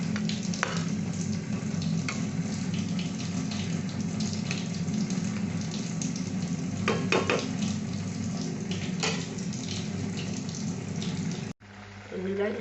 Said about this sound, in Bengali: একটু জল দিয়ে দিলাম, জল দিয়ে ঢাকা দিয়ে রেখে দিচ্ছি